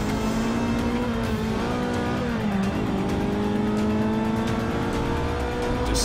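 A racing car's engine in Forza Motorsport 6 holds a loud, sustained high drone with pitch shifting up and down through gear changes, with faint tire noise over constant engine roar.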